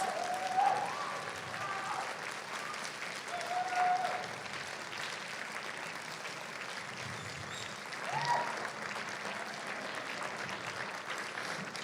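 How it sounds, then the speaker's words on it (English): Sustained audience applause fills a room at the final pitches of a live startup competition, steady and dense throughout with slight swells, a few faint voices rising briefly above the clapping. "put your hands together for the biggest round of applause for these absolute heroes"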